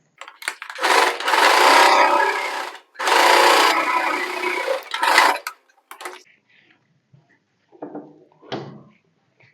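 A sewing machine top-stitches the lining of a blouse in loud, close bursts, two long runs and a shorter one, followed by faint scattered clicks and handling sounds.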